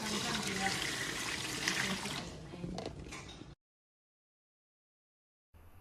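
Water rushes and splashes while rinsing out a TOKIT Omni Cook kitchen appliance, loud and continuous for a few seconds before cutting to silence, then briefly returning.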